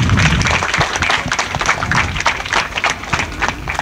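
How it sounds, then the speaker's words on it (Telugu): A Catholic congregation at a feast-day Mass for the Virgin Mary's nativity claps loudly and steadily in praise, a dense, continuous patter of many hands close by. "గట్టిగా చప్పట్లు కూడా దేవుని స్తుతిద్దాం"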